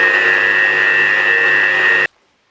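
Electric mixer whirring vigorously through pastry cream flavoured with coffee extract, a loud, steady motor whine that stops abruptly after about two seconds, leaving near silence.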